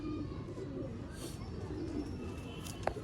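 Pigeons coo nearby in a low, throaty, continuous murmur, with a brief higher chirp near the end.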